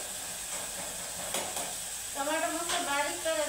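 Khichdi sizzling in a pan with turmeric as it is stirred, a steady close hiss and crackle that turns into a louder, bubbling sputter partway through, with a voice speaking over it.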